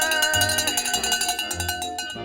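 A dinner bell is rung to call a family to the table, producing a rapid run of bright metallic clangs that ring on and overlap in a steady, even rhythm, loud and close with no talk.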